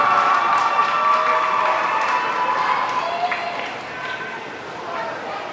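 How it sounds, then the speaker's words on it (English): A crowd at a swim meet's finals cheers and applauds the finishing swimmers, a broad wash of noise that gradually fades and softens toward the end. "Let's give these guys a round of applause"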